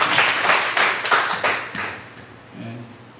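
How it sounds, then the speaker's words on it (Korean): A church congregation claps hands during a Sunday worship service, several loud bursts of clapping in the first half that fade out, followed by a faint murmur. "박수를 치면 제대로 치면"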